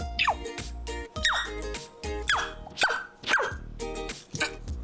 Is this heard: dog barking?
yes